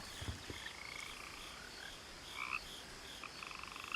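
Frogs croak in the video game What Remains of Edith Finch, a steady chorus of repeated chirping calls layered over soft ambient hiss, with no one talking.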